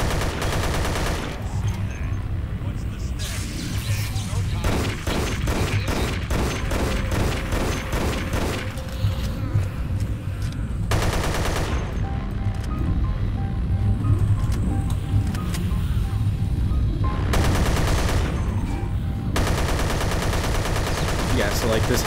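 Gunfire in the shooter Dead Effect aimed at an enemy in a hazmat suit, loud bursts of rapid automatic fire repeating in several volleys with short gaps between them.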